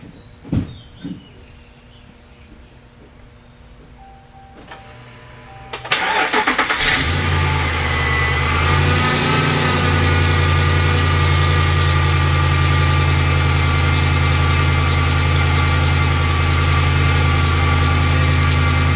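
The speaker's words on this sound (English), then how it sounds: "So I guess we'll try to fire it up." A 2014 Ram 2500 pickup, salvaged and partly disassembled and unrun since November, cranks briefly and fires up, then settles into a loud steady idle with a whining power steering pump, close up, with faint clicks before.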